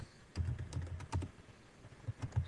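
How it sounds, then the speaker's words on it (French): Keys on a computer keyboard are tapped in a short uneven burst, close and quiet, as a router IP address is entered during an OSPF networking lab. "Et on tape notre adresse du routeur là-bas"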